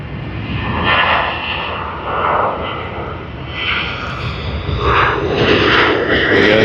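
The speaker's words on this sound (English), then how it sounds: "Here you are, Quantas, Boeing 737." A Qantas Boeing 737 jet departs Sydney Airport with a loud, continuous engine roar that pulses and swells in waves, whining tones rising and falling as it climbs away.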